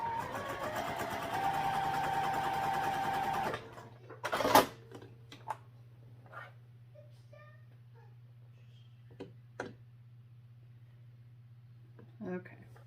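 A home sewing machine runs steadily while stitching a sling bag, a continuous close mechanical whir for a few seconds that stops abruptly, followed by quiet handling and small clicks.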